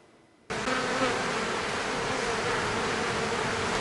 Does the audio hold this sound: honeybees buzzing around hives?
yes